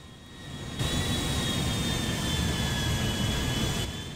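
Boeing 747 jet engines in the GTA V video game roar as a steady, loud broadband rush, with a thin high whine riding on top throughout.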